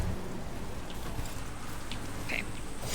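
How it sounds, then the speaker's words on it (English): In the video game Dragon Age: Veilguard, rain falls on a character as a steady, even hiss of downpour with faint scattered drops, alone with no voices. "Solus, you're getting rained on"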